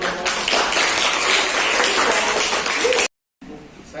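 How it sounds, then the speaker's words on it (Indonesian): Applause for a student group after a classroom presentation, a dense steady clapping wash lasting about three seconds before a sudden cut to silence, then a quieter noisy stretch. "Tepuk tangan untuk kelompok."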